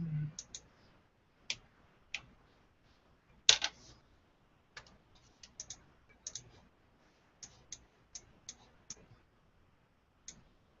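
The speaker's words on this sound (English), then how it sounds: "Oh, I'll just wait for him to finish typing." Sparse keyboard typing in a quiet room: a few isolated key clicks spaced irregularly over several seconds, faint and close, with one louder knock partway through and no talk.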